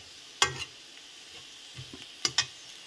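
Potatoes and fenugreek leaves fry in a pan with a soft, continuous sizzle, broken by a few sharp scrapes and clacks of stirring, near and moderately loud.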